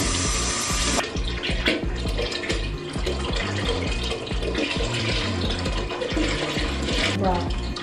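Hot water runs from a kitchen tap into a sink while chicken is being cleaned, a steady rushing splash under clattering dishes and nearby conversation.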